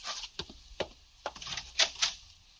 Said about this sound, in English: I open the door for you